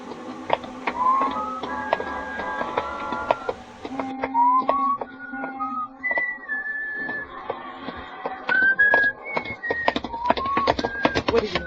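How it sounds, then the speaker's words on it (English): A man walking along a street whistles a meandering tune, with clear, bright, close notes over a crisp ticking of footsteps and a few short pauses between phrases. "Just sort of whistling to myself and walking along the street."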